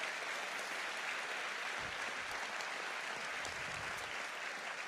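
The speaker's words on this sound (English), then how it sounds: "How about a round of applause for the Sprint Center in particular?" Crowd applause at a Grammy performance event honoring the Sprint Center, a dense, steady wash of clapping held at even loudness for about five seconds with no voices above it.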